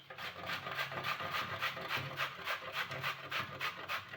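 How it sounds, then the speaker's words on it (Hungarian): Zucchini is grated by hand in a kitchen, giving a quiet, rhythmic rasping of repeated even strokes at close range. "Az örök klasszikus a reszelés."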